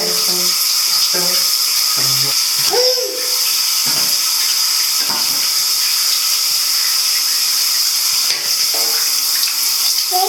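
Steady running water hisses and splashes continuously, like a shower spraying, with faint brief voices and clatters underneath.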